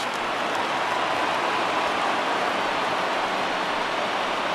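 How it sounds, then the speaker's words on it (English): Heavy rain pours steadily over a ballpark in the baseball video game MLB The Show 20 during a Phillies versus Pirates game, a dense, even hiss that stays loud and unbroken throughout, with no talk. "You just sensed it was coming with the heaviness of the rain"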